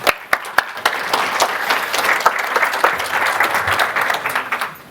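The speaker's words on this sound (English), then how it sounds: "A big round of applause here" Conference audience gives a big round of applause, dense clapping with a few sharp louder claps standing out, steady and fairly close throughout.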